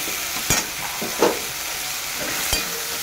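A spoon stirs khesari dal bora curry in a pan just after salt goes in, giving a continuous sizzle with three sharp scrapes against the pan, close and loud with no talk.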